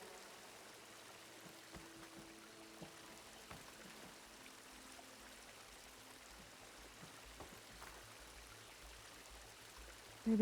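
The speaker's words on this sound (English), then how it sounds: "The water is still leaking." Steady trickling stream of water leaking from a sabotaged pipe in Horizon Forbidden West, a soft continuous flow with faint drips, quiet and alone throughout.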